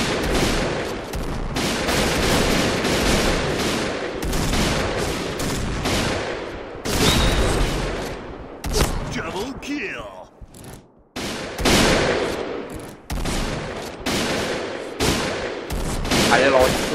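Gunfire in the Point Blank shooter game, including a PGM Hecate II sniper rifle: dense, loud bursts of rapid shots and fusillades that come in waves with brief gaps, under excited talk.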